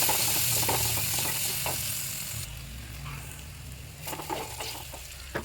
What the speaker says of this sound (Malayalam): ഇഞ്ചിയും കൂടെ ഇട്ട് കൊടുത്ത് നല്ലോണം വഴറ്റുക